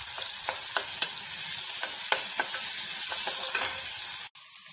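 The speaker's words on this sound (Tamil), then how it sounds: "வெங்காயம் நல்லா வதங்கிட்டு" Onions sauté in a pan for peas masala, sizzling steadily up close while a spoon stirs with light scraping taps, ending in an abrupt cut near the finish.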